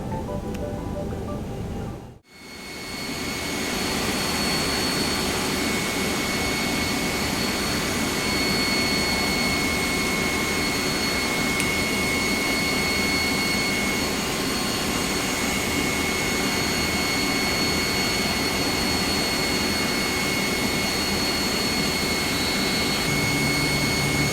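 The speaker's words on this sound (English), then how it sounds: "And starting engine number 1." An Airbus A320neo jet engine spools up in the X-Plane 12 flight simulator at Keflavik, a steady loud broadband roar and whine that rises after a brief dip and holds constant with thin tonal lines throughout.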